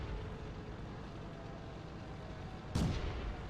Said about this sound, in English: Here's some fantastic far shots into the tank destroyer.